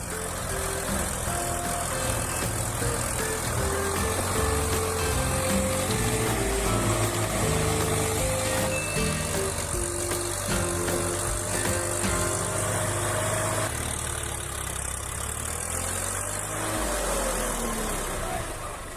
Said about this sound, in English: The engine roars at full throttle, mud flying everywhere.